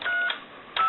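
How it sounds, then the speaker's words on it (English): Touch-tone dialing on a Western Electric Princess telephone: two short DTMF tone bursts separated by a brief pause, clear and fairly close. "So we'll go ahead and dial my number,"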